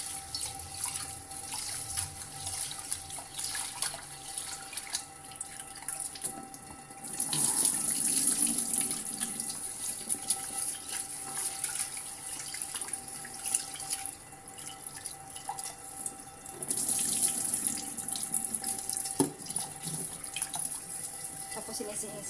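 A kitchen tap runs in two bursts of water while glutinous rice is rinsed for making biko. Between the gushes there are quiet drips and handling sounds, with faint voices in the background.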